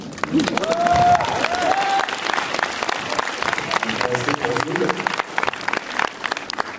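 An audience claps at a French film presentation, a dense burst of applause with a brief whistle-like tone and some cheering mixed in.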